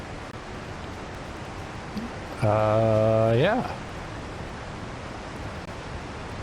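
Water in a video game water system rushes and flows as a steady, soft wash of noise throughout, while a voice briefly speaks over it midway.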